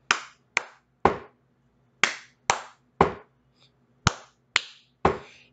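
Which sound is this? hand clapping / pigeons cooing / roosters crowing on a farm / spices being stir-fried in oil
hand clapping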